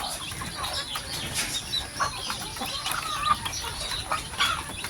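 Chickens and chicks cluck and peep busily while being fed, overlapping close calls continuing throughout, with no talk.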